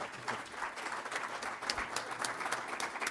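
A seated symposium audience applauds a guest speaker, a steady, fairly quiet wash of many hands clapping without pause.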